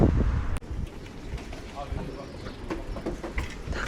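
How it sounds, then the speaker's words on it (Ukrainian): Gusty wind buffets the microphone outdoors at a sparsely attended fair, a steady low rumble with a sharp knock near the start, while faint voices murmur in the background. "вітряна погода"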